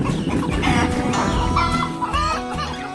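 Chickens cluck busily while eating fresh corn, a close and continuous stream of overlapping clucks with a steady background.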